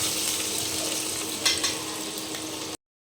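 Potatoes fry in a pan alongside other vegetables, giving off a steady close sizzle with a couple of brief stirring scrapes midway, then stopping abruptly near the end.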